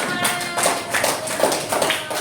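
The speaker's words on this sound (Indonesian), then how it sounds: "beri tepuk tangan untuk kelompok" A classroom of students claps for a group, with sparse, uneven hand claps and taps at close range and moderate loudness, the claps spaced irregularly rather than forming a full ovation.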